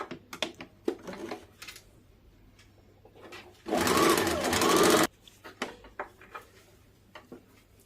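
A sewing machine stitches blouse panels together in a loud continuous burst of about a second and a half, set between quieter handling clicks and rustles of cloth.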